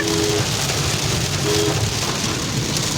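Heavy rain pours steadily in hilly country near Tirupati, a dense, loud, even hiss across the whole stretch, with a brief faint tone appearing twice in the background.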